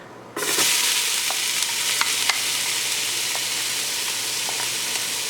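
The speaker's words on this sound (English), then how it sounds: "Throw the rest of the onions in." Onions hit a hot pan for an Italian meat ragu, bursting into a loud, steady sizzle after a brief silence, with occasional light clicks and pops over the constant frying hiss.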